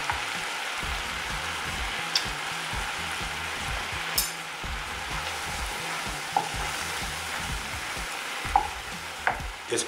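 Onion sauce with vegetable stock and sugar simmering in a pan, giving a steady, close bubbling sizzle throughout with a few soft clinks of a utensil against the pan.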